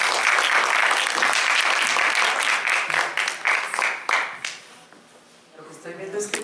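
An audience at a formal keynote lecture applauds a speaker, dense clapping that tapers into scattered claps before a voice begins speaking near the end.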